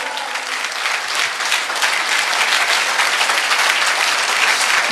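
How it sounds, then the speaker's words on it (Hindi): Loud, dense audience applause at a Safe Shop event, continuous clapping from many hands that holds steady for five seconds with no voices over it. "जोरदार ताली होनी चाहिए सर के लिए।"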